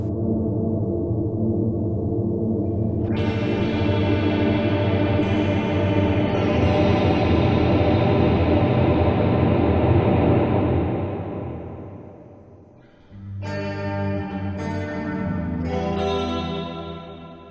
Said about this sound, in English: With chorus to modulate the reverb.